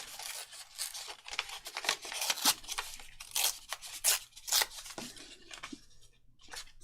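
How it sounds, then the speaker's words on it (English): Material is torn apart by hand in a series of sharp ripping and crinkling bursts, some longer and some quick, close up and alone without any speech. "So let's just tear that down a little bit."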